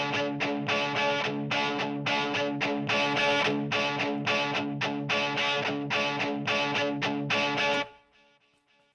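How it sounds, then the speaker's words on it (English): Heavily distorted electric guitar through a Rat distortion pedal plays a chugging rhythmic riff with steady strums for about eight seconds, then cuts off abruptly to near silence. "Let's put a distortion only on the right side, which is the double track."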